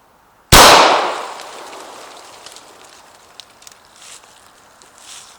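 A single loud gunshot from target shooting cracks sharply near the start, then a long reverberant tail fades slowly into quiet outdoor ambience.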